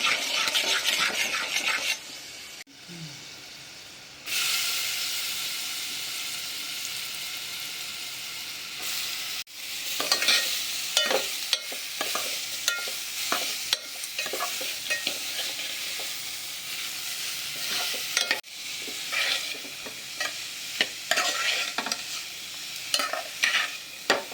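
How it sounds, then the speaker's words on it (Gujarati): Grated raw papaya being stirred with salt and turmeric in a pan, a steady sizzle with repeated scraping strokes of a spoon, close and fairly loud, with no speech, running for a long stretch. "મીઠું એડ કરીશું સ્વાદ અનુસાર, હળદર એડ કરીશું, મિક્સ કરી દઈશું."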